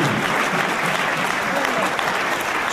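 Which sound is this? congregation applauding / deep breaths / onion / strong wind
congregation applauding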